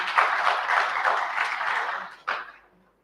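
An audience applauds a presenter at a foundation event, a steady wash of clapping for about two seconds, a brief final swell, then fading out.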